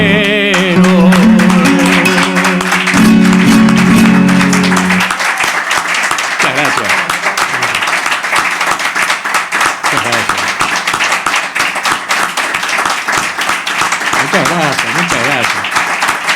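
An audience applauds after an improvised décima at a poetry workshop, with sung or spoken voice and sustained tones first, then dense clapping that rises and carries on loudly for over ten seconds.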